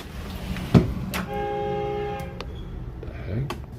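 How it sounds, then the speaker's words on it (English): A steady multi-tone train horn blows for about a second outside, moderately distant, heard from a kitchen amid background noise and a couple of sharp knocks nearby. "We got a train horn outside."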